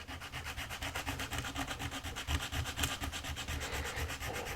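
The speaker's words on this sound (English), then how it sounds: "Sanding, sanding, sanding. Lots of fun." Sandpaper rubbing back and forth over a plastic model car body while shaping wide body flares, a steady rhythmic scratchy stroking up close with no pauses and no voices.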